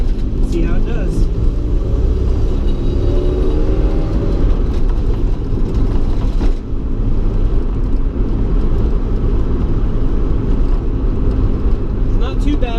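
A 1990 Honda Civic EF hatchback on coilovers driving over a rough, bad road, heard from inside as a constant loud rumbling road and engine drone, with a person talking over it.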